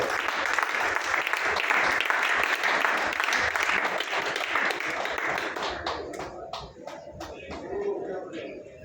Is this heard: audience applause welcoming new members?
yes